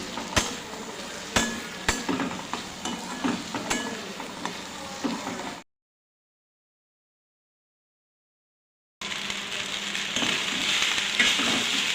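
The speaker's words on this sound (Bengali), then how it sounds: "এখানে আমি আলু পেঁয়াজটা একটু লঙ্কা দিয়ে লবণ হলুদ এবং চিনি দিয়ে ভেজে নিচ্ছি" Potato and onion frying with chilli, salt, turmeric and sugar in a pan, a close crackling sizzle with sharp clicks of stirring, broken by a stretch of silence before the hiss returns stronger.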